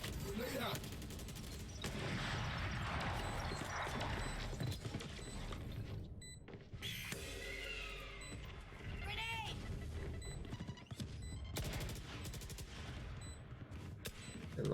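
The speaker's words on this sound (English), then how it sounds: "And lots of shots fired, but Hisoka is going to take down one." Gunfire in a Valorant match at a college esports game, with rapid bursts and single shots crackling over game effects. A commentator talks throughout, and the shots are dense and loud in the mix.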